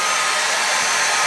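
An Arçelik hair dryer blowing on a child's hair, giving a loud, steady, close-up rushing whoosh with no break and no talking.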